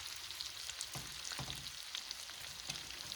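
Shrimp and vegetables sizzle steadily in a skillet, a constant bright crackle and hiss with soft stirring scrapes, heard close but at low volume.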